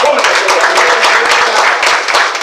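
Church congregation applauding during a worship service, dense continuous clapping that fills the clip, loud and close, with voices mixed in underneath.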